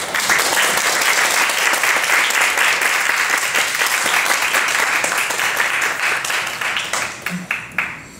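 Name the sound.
audience applause welcoming a lecturer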